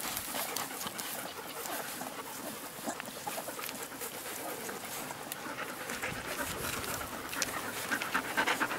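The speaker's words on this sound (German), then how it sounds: "Außen rundum geistern die anderen großen Hunde" Golden retrievers panting in a hay bath with other large dogs roaming around, rapid breathy panting that rises toward the end, with faint background voices.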